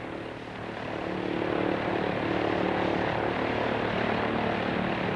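Early American Airlines propeller airplane engine running steadily and loudly, a continuous droning roar with a low throb that swells slightly after the first half second and then holds even throughout, with no voices.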